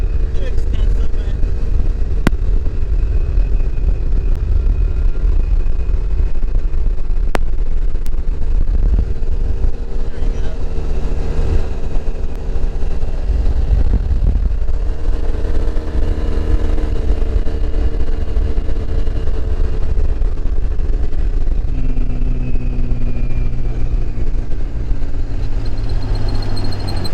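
Polaris and Can-Am UTVs ride up a highway. Their engines drone steadily under wind buffeting, with the pitch shifting as they pick up speed, and people talk over the noise.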